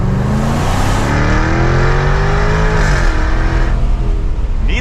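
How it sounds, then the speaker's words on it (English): A 2024 Jaguar F-Type R75 AWD convertible with a supercharged V8 in dynamic mode, accelerating hard from close by, its loud engine tone climbing through the gears with brief dips at each shift. "Needless to say, this thing is pretty darn quick with the supercharged V8. Sounds pretty awesome."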